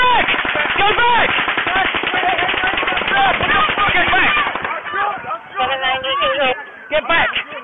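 Sustained automatic gunfire fired from the Mandalay Bay during the Las Vegas Boulevard mass shooting, long rapid bursts of loud reverberating shots, then broken volleys mixed with frantic shouting nearby.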